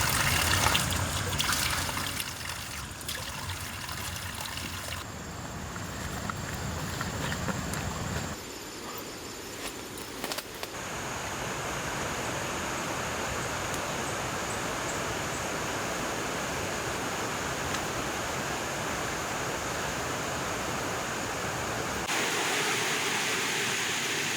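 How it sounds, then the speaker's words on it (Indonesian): Clear mountain stream running down from the hills toward a waterfall in Indonesia, a steady broadband rush of flowing water heard close and continuous, with no voices. "Ini merupakan aliran dari perbukitan yang ada di atas dengan kejernihan air yang sangat jernih sekali."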